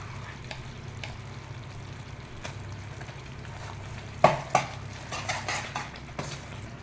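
Grated carrot stirred in a pan for carrot halwa: a low, soft sizzle with light scraping, then a few sharper metallic clanks of a spoon against the pan near the end, no voices.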